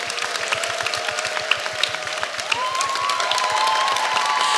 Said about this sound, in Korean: 네, 환호성 너무 좋습니다.